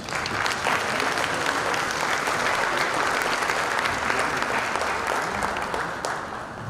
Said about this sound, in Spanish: les pido que lo recibamos con un fuerte aplauso